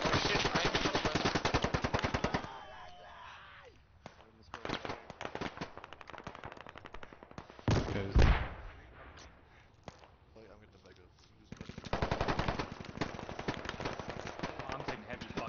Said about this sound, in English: I'm taking heavy fucking fire right now.